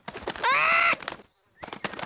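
Cartoon pet parrot giving a single loud squawk with a rising, tonal character, briefly between short stretches of other sounds.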